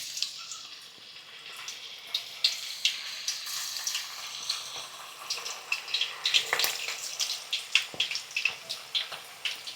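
Banana slices frying in hot oil for banana chips, a steady bright hiss and bubbling with crackling pops that grow busier as more slices go in, close by with no talking.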